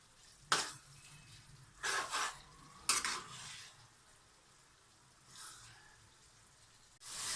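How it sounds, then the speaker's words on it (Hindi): Minced meat and chana dal frying in oil in a pan, with a spoon scraping and stirring in a few sharp separate strokes between stretches of quiet, low sizzling, close by. "इसके साथ भी अब हम इसकी कम से कम 5 से 7 मिनट तक इसकी बहुत अच्छी तरीके से भुनाई करेंगे।"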